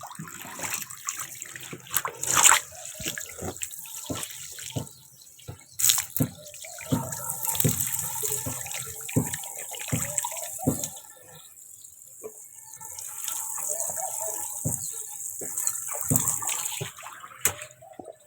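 Water runs and splashes steadily, like a tap or stream, with uneven sloshing bursts and a few faint clunks throughout.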